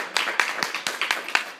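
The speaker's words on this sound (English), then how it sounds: "Well, we could give you a round of applause as a marathon student." A small audience at a Supreme Court term review talk gives a brief round of clapping, with a handful of distinct claps in a loose rhythm close by.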